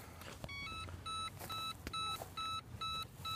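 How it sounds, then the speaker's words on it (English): A Segway-style hoverboard emits a rapid series of loud, regular electronic beeps, evenly spaced and repeating close by. "just ignore that beeping"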